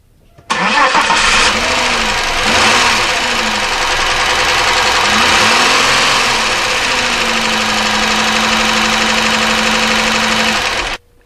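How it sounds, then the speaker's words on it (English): Car engine idling with an internal knocking fault, loud and close, starting abruptly and running steadily for about ten seconds with a rough, repetitive knock beneath the drone, then cutting off. "So that is definitely an internal engine noise."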